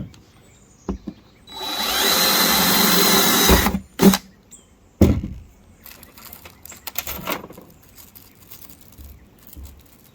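A power drill with no clutch drives small stainless steel screws while cab lights are fitted to a Ford F250 Super Duty, giving one sustained loud whir of nearly two seconds followed by short bursts and a few clicks nearby.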